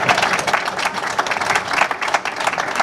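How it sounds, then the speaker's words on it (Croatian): An audience at an evening of Dalmatian recitation and klapa singing in Bibinje claps steadily, a dense, continuous round of applause that stays loud and close throughout. "Pa dajte mi malo aplauza."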